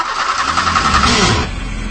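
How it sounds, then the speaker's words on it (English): An old car in a radio drama struggles to start, its starter cranking and the engine sputtering for about a second and a half before it dies down into a low rumble, close and loud. "Maud picked me up at the local station, but was having some trouble getting the car started."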